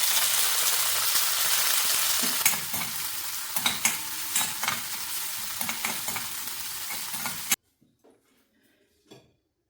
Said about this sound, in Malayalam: ഇനി കുറച്ച് ഉണക്കച്ചെമ്മീനാണ്. അതൊന്ന് പിന്നെ എണ്ണയിലൊന്ന് വറുത്തെടുക്കുക.